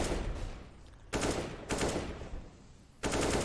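Pistol gunfire in a tactical shooter video game, bursts of rapid shots in several separate volleys with brief pauses between, loud and close, no voices.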